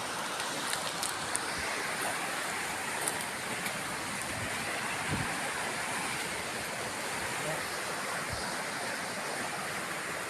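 A river rushes loudly in a sudden flood, a dense, continuous roar of surging water with faint scattered knocks beneath it.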